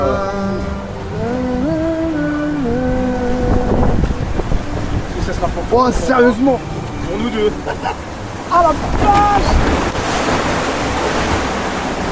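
A waterfall water ride at an amusement park crashes and splashes in a loud, continuous roar of churning water and wind buffeting close to the microphone, while riders shout and exclaim over it.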